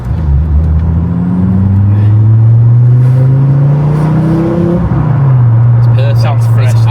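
A manual Volvo S60R T5 with a new exhaust revs hard, engine pitch climbing and falling through several loud, close pulls with a deep resonant exhaust note.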